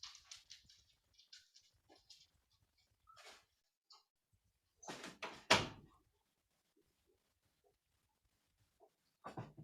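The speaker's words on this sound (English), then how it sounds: "Let me close this door so I don't hear the annoying dog pitter patter" A door closes indoors with a firm thump near the middle, preceded by scattered soft clicks and light tapping that could be dog nails on the floor, then quiet.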